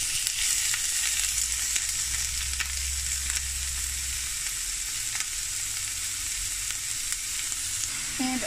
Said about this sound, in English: I'm going to put the onions.